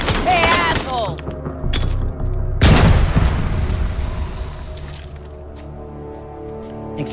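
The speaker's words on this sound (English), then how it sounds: "Nice throw, Baker. Nothing quite like a frag to cause offense." Frag grenade going off in a video game: a loud, heavy boom with a crackling, debris-filled tail that slowly fades, preceded by other game noises.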